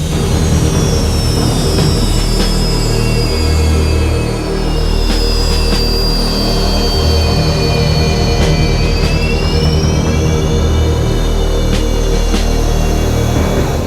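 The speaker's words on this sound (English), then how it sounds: "As they taxi out of the hangar towards the ORP" An Indian Air Force Sukhoi fighter jet taxis out of its hangar with a loud, steady turbine whine whose pitch slowly shifts. A low engine rumble runs underneath, and no one speaks.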